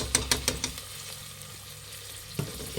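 Lima bean rice bath mixture frying and being stirred in a pan, with a few sharp scraping strokes at the start and a soft continuous sizzle beneath, then another stir near the end.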